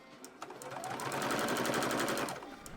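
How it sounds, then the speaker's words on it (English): A sewing machine stitches a purse lining seam, a close steady rapid whirring of the needle that speeds up, holds and then slows to a stop. "lower the presser foot, and keep sewing."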